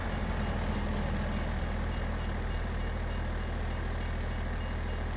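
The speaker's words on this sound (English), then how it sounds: "Oh, train's coming through." A train rolling past in Farming Simulator 22, a loud, continuous rumble and clatter of rail cars that stays steady and close for the whole stretch, with no talk over it.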